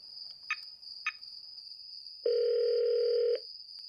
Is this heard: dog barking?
no